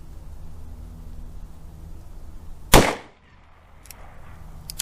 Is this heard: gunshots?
yes